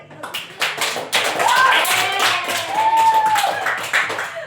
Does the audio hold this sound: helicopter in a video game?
no